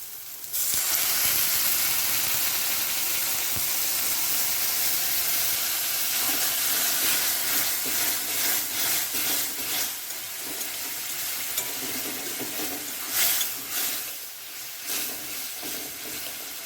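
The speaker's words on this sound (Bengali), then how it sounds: "এবার দিয়ে দেবো পরিমাণ মতন জল" Water poured into hot fried masala for an egg curry sets off a loud, continuous sizzle and steamy hiss close by, with faint stirring scrapes and swells in intensity.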